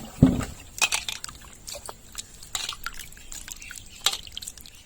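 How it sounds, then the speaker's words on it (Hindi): Fish being washed by hand in a vessel of water in a village setting, giving scattered splashes, drips and sloshing in irregular bursts, fairly close with no talk. "चलिए फिर से हम मछली के धो लेते हैं"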